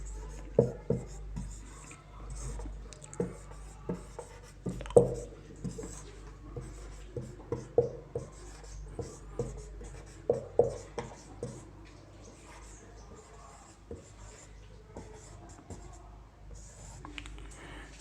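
Chalk or marker writes numbers on a board during a math lesson on the number system, making a series of sharp, close taps and short strokes in irregular bursts over a quiet background.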